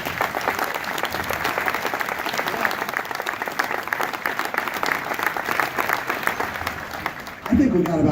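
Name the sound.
audience applause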